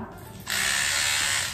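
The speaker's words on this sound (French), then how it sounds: "Se brosser les dents" An electric toothbrush brushing teeth in a home bathroom: after a brief quieter moment it switches to a loud, steady high-pitched buzz that holds close and unbroken to the end.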